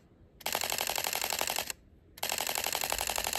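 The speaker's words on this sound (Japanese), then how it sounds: "EOSR50 の連射でございます。" Rapid shutter clatter from a Canon EOS R50 camera held in continuous burst shooting, two dense runs of fast clicks split by a short gap, close-up with no voices.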